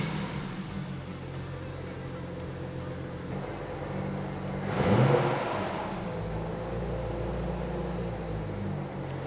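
A BMW car engine cranks and catches with a brief swelling roar, then settles into a steady low idle beneath background hum.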